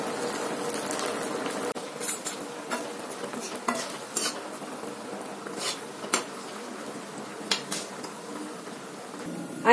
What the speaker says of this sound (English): I am frying the sabudana vada for the past 5 minutes in medium flame.